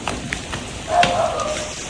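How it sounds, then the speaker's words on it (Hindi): Rain falling outside a home on arrival, a steady close hiss of drops with a slight swell in the middle, no clear speech over it. "बारिश हो रही है।"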